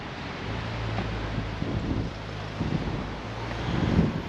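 Strong wind at the seaside at low tide buffets the microphone in a continuous roar with low gusty rumbles, loud and steady with no voices.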